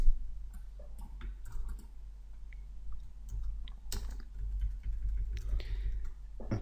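Keyboard typing while filling in a WordPress post form: light, irregular key clicks near the mic over a steady low hum, with a few louder taps and no talk.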